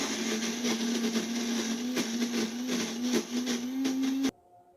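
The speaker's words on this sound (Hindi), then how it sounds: "अब हम इसे ग्राइंड करके इसका एक स्मूथ पेस्ट बनाएंगे।" A grinder blends spices into a smooth paste, a loud steady motor whine with a rattling, churning texture running continuously for several seconds before it cuts off abruptly.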